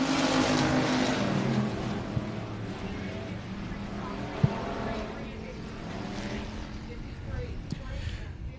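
Race cars finishing a heat race at a South Texas racetrack give a steady, fairly distant roar of engines, and a voice talks over it throughout.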